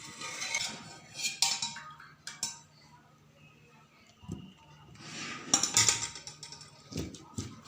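Boiled potatoes and amara tenga are mashed in a metal pot, producing irregular bursts of clinks and scraping knocks with quiet pauses between them.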